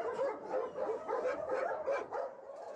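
Many dogs bark together at the Smeura dog shelter in Romania, an overlapping, continuous chorus of yaps and barks heard at a moderate distance with no clear gaps.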